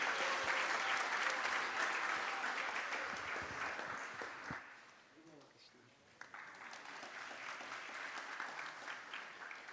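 An audience at a Sunday program gives a warm round of applause welcoming a speaker, dense clapping that fades out midway and then rises again, with a voice faintly mixed in.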